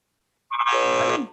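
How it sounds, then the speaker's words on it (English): A single loud electronic buzzer blares for under a second after a brief silence, harsh and steady before cutting off. "I don't know what's up with the buzzer"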